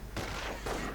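Gunfire crackles through a 1v1 video game battle as infantry squads are sniped: two dense, loud bursts of shots over a steady rumbling backdrop, close and continuous, with no talk.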